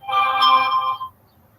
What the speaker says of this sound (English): my phone will drive me nuts